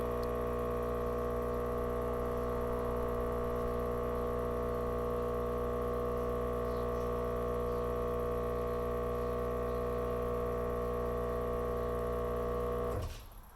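A VIAIR onboard air compressor mounted on a Sprinter van runs continuously with a loud, steady electric drone and hum, then cuts off abruptly at the end.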